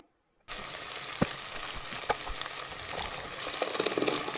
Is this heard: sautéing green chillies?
yes